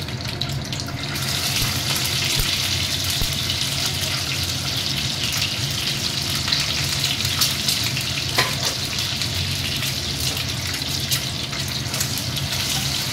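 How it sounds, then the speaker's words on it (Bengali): Scored whole eggs fry in a pan with a loud, dense, continuous sizzle and crackle, heard close up and steady throughout, with no talking. "এবার আমি ডিমগুলো ভেজে নেব"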